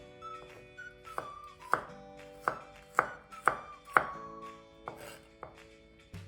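Stems being cut off cured home-harvested garlic, a series of about nine sharp, close cuts against a board at an irregular pace, quiet in between and with no talking.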